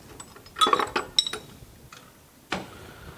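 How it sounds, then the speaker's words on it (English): A glass stir rod mixing iron and sulfur powders together in a lab dish: a few light clinks and scrapes, with small scattered taps and one louder tap near the end. "we're going to mix these together real quick using a little glass stir rod"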